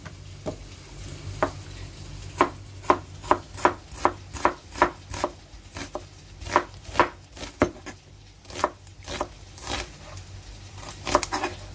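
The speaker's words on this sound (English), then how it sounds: "so let's chop this onion" A knife chops a medium onion into pieces for caramelizing as a burger topping, giving a run of sharp, close board knocks in a steady, quickening rhythm over a faint low background hum, with no talking.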